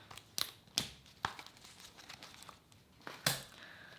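Crinkly plastic sticker packs rustle as someone digs through them, with several sharp crackles and softer rustling between, close but quiet.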